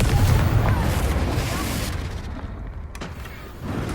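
Confringo fire spell detonating in the video game Hogwarts Legacy, a loud booming blast with a rumbling, crackling tail that fades before a second burst near the end.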